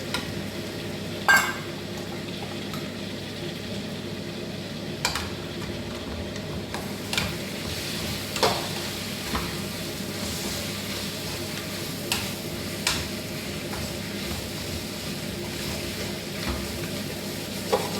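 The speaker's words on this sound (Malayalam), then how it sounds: "നമ്മുടെ തക്കാളിയൊക്കെ നന്നായിട്ടൊന്ന് ഇട്ട് കൊടുത്തിട്ടുണ്ട് വഴന്നിട്ടുണ്ട്" Tomatoes sautéing in a pan while beef is cooked, giving a steady sizzle with occasional scrapes and light taps from stirring.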